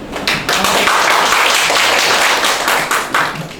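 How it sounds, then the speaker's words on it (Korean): Audience applause at a Korean care-worker education association meeting, a dense burst of clapping that fills the room steadily for a few seconds. "한번 박수 한번 해주세요."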